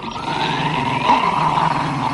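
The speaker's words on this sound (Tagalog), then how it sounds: "Nakakatakot ang aso!" A dog growls in a Tagalog-dubbed anime fight scene, a steady, loud, rumbling snarl that runs unbroken for a couple of seconds with no talk over it.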